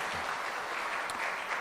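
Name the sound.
congregation applause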